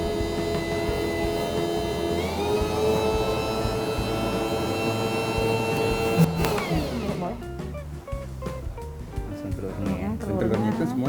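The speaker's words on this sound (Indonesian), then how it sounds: "Terus kita mixer dulu sebentar." An electric mixer beats butter and eggs for cookie dough, its steady motor whine running for several seconds under continuous talking, then cutting out partway through.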